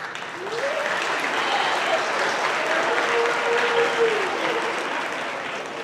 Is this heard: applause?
yes